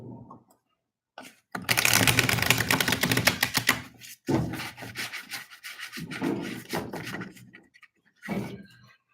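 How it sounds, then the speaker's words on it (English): Tarot cards are shuffled by hand in bursts of papery riffling and rubbing, several runs separated by short pauses, close and fairly loud with no speech. "Give me one moment while I shuffle the cards."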